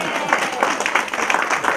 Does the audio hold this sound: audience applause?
yes